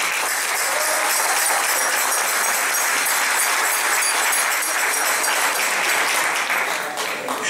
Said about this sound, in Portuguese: Para ele, uma salva de palmas.